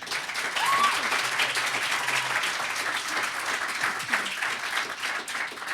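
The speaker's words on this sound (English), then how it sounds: "I ask if you hold your applause until closing statements" Sustained audience applause at a 2016 university student government debate at UTK, a dense, steady wash of many hands clapping at moderate distance with no pauses.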